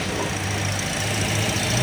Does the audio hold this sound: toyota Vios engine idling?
yes